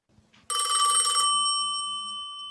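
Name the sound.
portable telephone ringing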